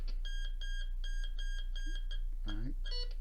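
SUNPOW MD02 metal detector sweeping over a mercury dime sounds a string of short, high electronic beeps in quick bursts, followed by a brief lower warbling tone and more beeps, close over a steady low hum.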